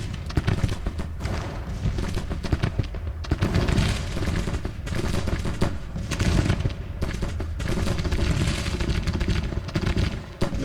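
Grand Tactician: Civil War battle gunfire: dense, continuous musket volleys and booming shots crackling throughout, loud and layered, as in a distant fusillade.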